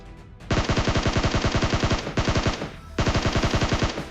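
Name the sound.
gunfire from video game PUBG Mobile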